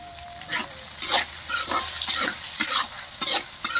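Ground spices being stirred into amla pickle frying in a pan, with repeated scraping strokes over a steady sizzle, close and moderately loud.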